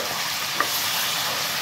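Pork pieces fry in a pan for crispy pork binagoongan, giving a steady, close broadband sizzle throughout with one brief sharp tick partway through.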